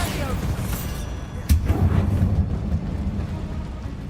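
A Bombarda blasting spell in Hogwarts Legacy lands as one sudden booming explosion with a low rumbling tail, set against ongoing game ambience and a voice talking.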